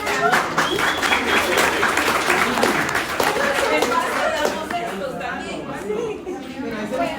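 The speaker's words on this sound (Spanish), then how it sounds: "Le digo un aplauso a la compañerita" A university law class gives a short round of applause to a fellow student at a prize moment, with clapping mixed into lively chatter that thins out toward the end.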